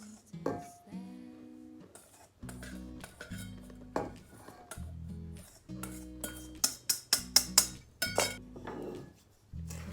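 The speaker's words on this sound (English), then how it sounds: "We'll be mixing by hand slowly with a wooden spoon." A wooden spoon works flour into chewy chocolate chip cookie dough by hand, giving irregular knocks and bright clinks against the bowl that grow sharper and quicker toward the end, close and moderately loud.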